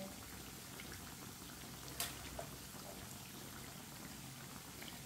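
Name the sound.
tikkis frying in a pan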